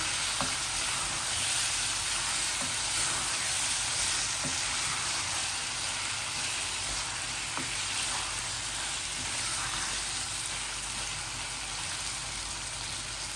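Chicken pieces fry and are stirred in a pan, making an even, continuous sizzle with scattered soft scraping clicks from the stirring, and no voices.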